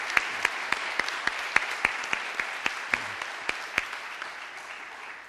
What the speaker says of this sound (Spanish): yo pido un aplauso sincero